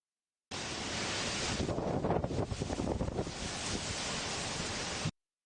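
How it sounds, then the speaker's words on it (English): Wind blows in a steady, broad rushing roar for about five seconds, fairly loud and surging slightly in the middle, with no voices. "Wind."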